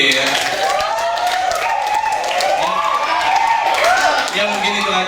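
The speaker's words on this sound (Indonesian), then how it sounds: "Ayo lagi tepuk tangannya lagi." An audience on a vocational school study tour applauds for the host company, steady clapping heard beneath a loud voice speaking over a microphone.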